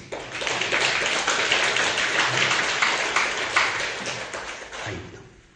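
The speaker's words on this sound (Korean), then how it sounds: "또 그것도 이해가 가면 박수를 한번 쳐보시오." An audience at a lecture on reunification and peace claps together in a steady burst of applause for about five seconds, then fades out.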